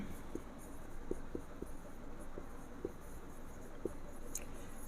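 Handwriting strokes from a teacher working through a class 8 maths problem, a soft steady scratch with scattered sharper taps, alone and fairly close with low background noise.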